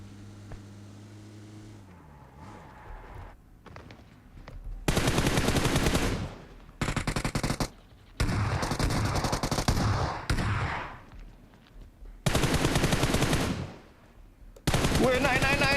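Gunfire in the PUBG Mobile video game, loud bursts of rapid automatic shots in several separate volleys, with game sounds and engine noise between them.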